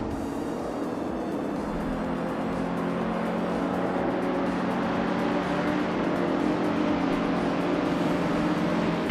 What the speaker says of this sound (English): the race is underway at Goodwood, and Ekanone is taking the lead in a classic 1964 Porsche 901